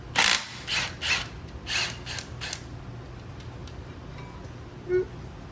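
A ratchet loosens the caliper bracket bolts on a brake during the install of a BAER Big Claw brake kit, with a few quick clicking bursts at the start and then sparse faint clicks over a low background hum.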